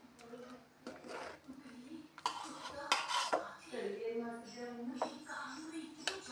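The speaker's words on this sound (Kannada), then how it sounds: "ಈಗ ನಾನು ಇದು ನೀಟಾಗಿ ಮಿಕ್ಸ್ ಮಾಡ್ಕೊಳ್ತೀನಿ" A spoon scrapes and clinks against a bowl while ingredients are mixed ahead of adding almond powder, irregular knocks and scraping strokes close by, with some background noise and possible faint voice.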